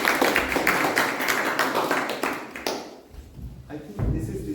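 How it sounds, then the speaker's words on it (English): An audience at a Toastmasters installation ceremony claps for the speakers, starting as a full burst of applause that thins out after a few seconds and gives way to quieter room noise and a voice. "A big round of applause"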